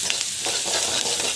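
Vegetables being stirred and sautéed in a hot pan with salt, giving a steady close sizzle broken by soft scraping strokes, with no voices.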